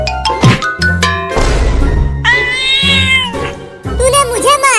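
Cartoon cat meowing several times in loud, close, pitched cries mixed with excited character voices in a Hindi comedy cartoon.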